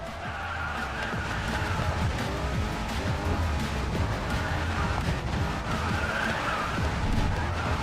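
A race car in the Racing Master video game brakes and accelerates through a chicane, the engine roaring steadily with tire skids and squeals throughout, loud and continuous with no talk.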